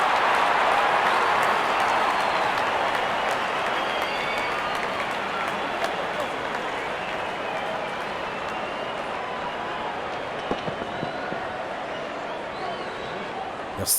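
A large cricket crowd at an England versus Australia match applauds and cheers in a steady, dense wash of clapping that holds for the whole stretch, with a commentator's voice faintly beneath.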